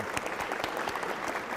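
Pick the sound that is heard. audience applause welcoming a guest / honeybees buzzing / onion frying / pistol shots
audience applause welcoming a guest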